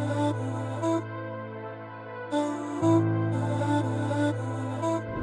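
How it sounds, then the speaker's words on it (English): A dark vocal chop sample with strings and piano, pitched down as a whole by a sound shifter, looping in choppy segments over a deep sustained low layer with recurring bright bursts, no talk. "And I also had a sound shifter on the master and pitched down the whole sample to semitones."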